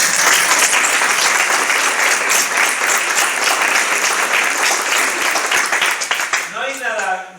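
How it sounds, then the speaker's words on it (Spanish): Loud, dense audience applause at a university theatre event, sustained clapping that fades toward the end as a voice starts speaking over it. "Un aplauso."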